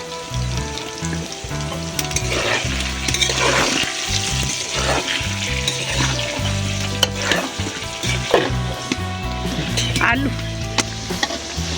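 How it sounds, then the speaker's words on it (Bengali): Potatoes seasoned with salt and turmeric fry in oil over a clay village stove, giving a dense, steady sizzle with bubbling and stirring clatter, music and a little background noise alongside. "এবারে আলুগুলোকে ভেজে নেব।"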